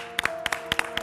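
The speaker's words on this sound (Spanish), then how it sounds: "Un aplauso enorme desde aquí para ti, Loli" Studio audience applause comes as quick bursts of clapping, a few sharp hand claps in an uneven rhythm, brief and fairly close.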